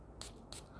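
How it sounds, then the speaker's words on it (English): A small atomizer on a bottle of Estée Lauder Beyond Paradise Men fragrance from 2004 gives two quick, close, hissing sprays in succession, each a brief airy puff over faint room noise. "Show you the spray."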